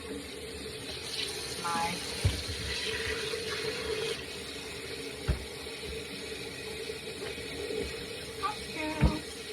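Tap water runs steadily into a sink while oxtails are washed, a constant splashing hiss broken by a few sharp knocks and clinks, with a brief word spoken over it.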